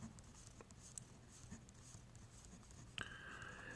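An equation is written by hand, a very quiet scratchy pen-on-paper sound in short strokes, ending with a faint tone.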